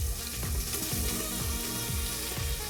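Chopped onion sizzling with bacon in a hot pan, a dense continuous frying hiss with occasional stirring scrapes, close and steady with no talking.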